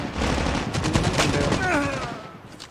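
A suppressed MSMC submachine gun fires a rapid burst in Call of Duty Mobile, a dense run of muffled, clattering shots lasting about two seconds before tailing off.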